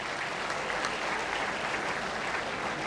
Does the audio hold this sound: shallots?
no